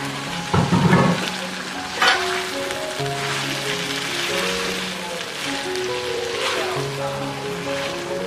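Chicken pieces dropped into a pan of sautéed spice paste for Indonesian soto ayam, sizzling and frying steadily up close, with a burst of louder crackle as the meat goes in.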